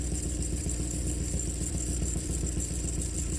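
Welder's engine running at a low auto idle, a steady, even mechanical drone with a constant low rumble and no change in pace.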